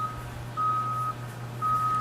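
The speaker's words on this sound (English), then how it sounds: "That's my neighbor trying to back up his work truck." A neighbour's work truck backing up sounds its reversing alarm, three long steady electronic beeps over a low constant engine hum, moderately loud and nearby.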